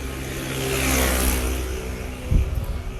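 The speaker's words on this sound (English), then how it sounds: "This was a moped." A moped revving as it passes on a street in Amsterdam, its mid-pitched engine swelling louder, peaking near the listener, then receding with a brief low thump.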